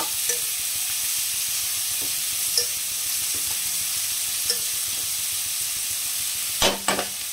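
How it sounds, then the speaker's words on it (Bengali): Onion frying in a pan with a pinch of salt sizzles steadily and close-up, with a few light utensil clinks near the end. "এটাকে ভাজবো ভালো করে।"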